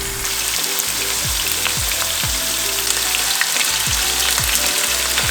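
Potatoes for chipotle patatas bravas frying in an oil-filled pan, a steady close hiss of sizzling oil with soft scraping as they are moved around, no voices.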